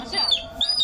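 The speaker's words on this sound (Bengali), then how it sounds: "মুরগি বাচ্চা" Baby chickens give a couple of thin, high peeps close by, heard over a soft background murmur in a short moment.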